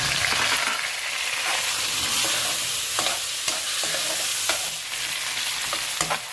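Continuous sizzling of two tomatoes frying with onions in a hot pan, with scattered scraping clicks from stirring throughout.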